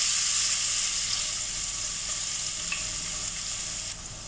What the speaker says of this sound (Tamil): அதே எண்ணெயிலேயே நம்ம தட்டி வச்சிருக்கிற பூண்டை சேர்த்துடலாம்